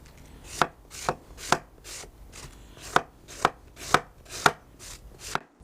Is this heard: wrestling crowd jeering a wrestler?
no